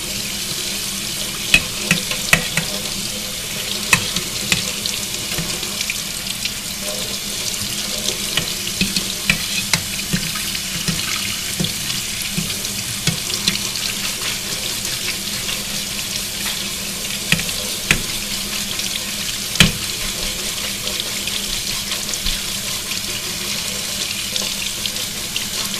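Water runs steadily from a kitchen sink tap while cooked meat for a slow cooker lasagna is rinsed, a continuous loud hiss with scattered splashes and clatters throughout.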